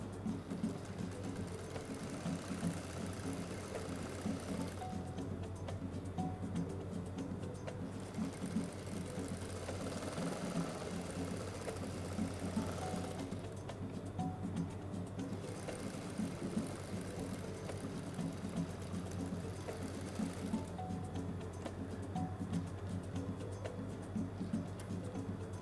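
A sewing machine stitches half-inch side seams on a fabric shopping bag, a quiet, rapid mechanical whirring and ticking that runs continuously, pausing briefly between passes.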